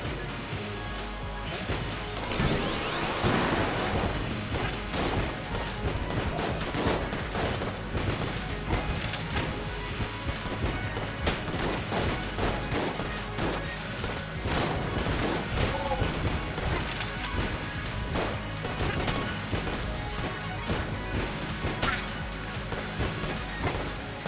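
A Molotov launcher fires repeatedly in the roguelike shooter Enter the Gungeon, with constant crashes, bursts and mechanical clatter layered over steady game music.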